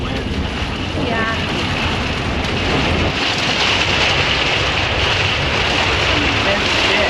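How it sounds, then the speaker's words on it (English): Strong storm wind roars steadily in Canyonlands, a loud, dense rush buffeting the microphone throughout, with occasional faint voices under it. "look at that wind"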